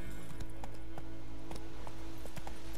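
Rhythmic clip-clop of horse hooves trotting along in the video game The Witcher 3: Wild Hunt, steady and fairly close, over a low constant background hum.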